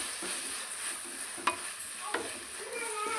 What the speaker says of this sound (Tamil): தக்காளி பார்த்திங்கன்னா நல்லா வதக்கி விட்டுறலாம்.